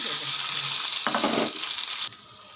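Onions and coarsely crushed garlic fry in oil with cumin and mustard seeds for a lentil dish, a dense close sizzle with stirring scrapes midway that drops to a softer hiss toward the end.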